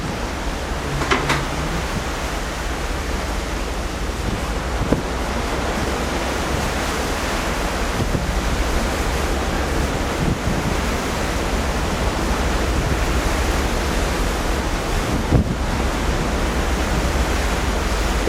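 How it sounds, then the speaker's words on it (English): Strong wind on the New Zealand coast roars steadily as broadband rushing noise that blends with surf, loud and continuous against the microphone with occasional gust thumps and no speech. "Very windy."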